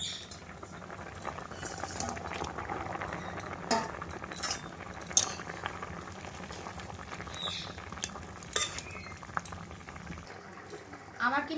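Kohlrabi and fish curry simmering in a pot, a soft continuous bubbling patter with occasional light clinks of a utensil against the pot, fairly faint and close.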